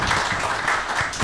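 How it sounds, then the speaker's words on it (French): Audience applause for a panel speaker at a communications conference in Libreville, a brief, fairly dense patter of clapping holding steady throughout. "On peut encore applaudir pour lui."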